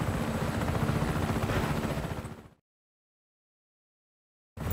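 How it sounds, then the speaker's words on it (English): A helicopter in Just Cause 3 gives a steady, loud rotor roar that fades out and drops to silence, then returns abruptly near the end. "You can take this chopper, Fratre."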